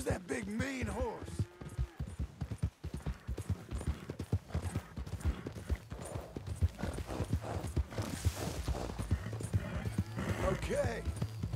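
Horse hooves clip-clop steadily in Red Dead Redemption 2, with an occasional neigh from the big horse, running throughout under a voice talking.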